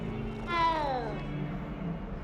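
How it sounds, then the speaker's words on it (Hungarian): A single cat meow from the video game Hogwarts Legacy, a drawn-out falling cry standing out close and clear over a steady low background hum. "Ez milyen nyávogás volt?"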